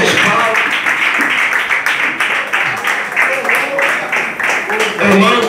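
A church congregation claps hands during an evening service, a dense, steady wash of clapping that fills the whole stretch at close range, with voices mixed in beneath.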